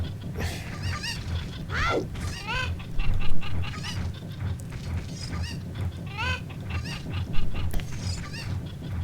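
Cuckoo chickens in The Legend of Zelda: Ocarina of Time, Kakariko Village, give repeated squawking, honking clucks in short bursts over a steady game background hum, with no talking.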